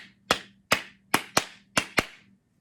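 Six sharp hand claps from a teacher in a music lesson, close and isolated, tapping out an uneven rhythm with short gaps and one quick pair.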